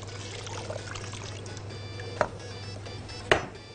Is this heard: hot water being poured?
yes